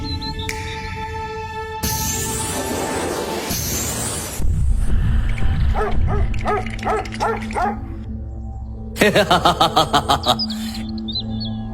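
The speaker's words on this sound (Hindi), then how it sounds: "इस बच्चे को तो कुत्ते भी डरा रहे हैं।" Dogs barking repeatedly and close, in short loud bursts alongside chirping birds and a low background hum, with a final rapid volley of barks near the end.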